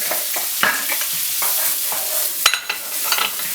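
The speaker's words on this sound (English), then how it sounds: "but I think the recipe has more taste with some butter. Putting my onions. And some garlic." Onions and garlic sauté in melted butter, a bright continuous sizzle broken by frequent scraping stir strokes and one sharp utensil knock midway.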